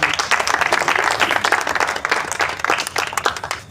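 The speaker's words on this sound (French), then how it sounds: "applaudissez très fort pour vous" An audience applauds loudly, with dense, sustained clapping from a crowd that rises and falls slightly and carries on with no pauses.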